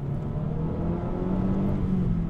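A Mazda 3 MPS with 260 hp drives along, its engine humming steadily from inside the cabin with a low, even drone and slight rises in pitch.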